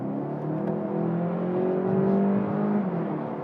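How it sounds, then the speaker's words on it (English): A Volkswagen Golf GTE hybrid engine in performance mode hums and rises in a steady, throaty rev, sustained and close, with a low droning tone that swells slightly midway. "So I press GTE button and the car turns into performance version."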